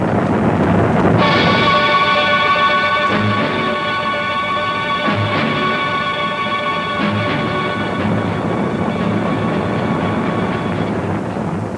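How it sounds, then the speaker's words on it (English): Britain's Blue Streak rocket engine fires on a test stand: a sudden, steady high-pitched whine over a rough roar that holds for about ten seconds without a break. "the sound of a space age, the sound of the Blue Streak rocket"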